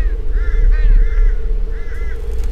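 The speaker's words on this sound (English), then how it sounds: "The valley is full of mountain crows." Mountain crows caw loudly and close in a Himalayan valley, a run of harsh repeated calls in two bursts over a steady low rumble of wind.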